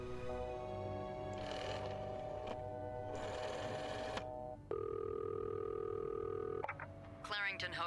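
Phone tones in a hotel-set video game: a steady electronic tone that switches pitch midway, with a burst of chirping at the end, loud and continuous with no talk.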